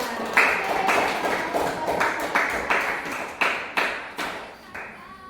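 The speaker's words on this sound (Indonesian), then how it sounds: "mari kita beri tepuk tangan untuk Bang Rohman" Classroom clapping after a group presentation: about ten sharp, separate claps in a loose steady beat, close and moderately loud, with faint voices underneath.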